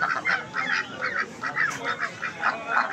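A goose at a poultry market honks repeatedly in a quick, uneven series of nasal calls, loud and close, with no talk over them.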